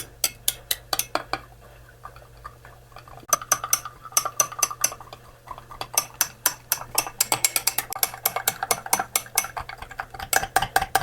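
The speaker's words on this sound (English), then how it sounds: "Now with these powders, you got to really stir them in." Powder colour is stirred vigorously into liquid plastic for soft baits in a Keitech smallmouth colour match, producing rapid, uneven runs of sharp clinks and scrapes against a container, close and continuous without talk.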